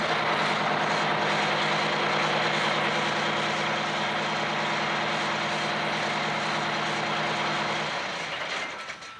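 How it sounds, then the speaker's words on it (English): A large diesel fire crash truck engine runs loudly and steadily with a deep rumble and broadband roar, then winds down near the end. "We have switches on the dash that allow me to start the truck."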